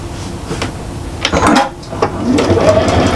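A sewing machine stitches a double-sided Christmas cushion, with short bursts of motor whir and mechanical clicks close by, and the stitching grows steadier toward the end.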